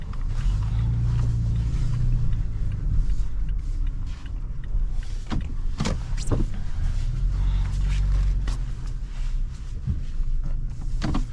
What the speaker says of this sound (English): We're gonna do a quick little 3-point turn.